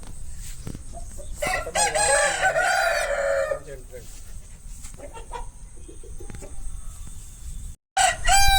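A black rooster at a poultry farm gives a loud, close crow in the middle stretch, with softer clucks and other fowl around it and a brief second call near the end.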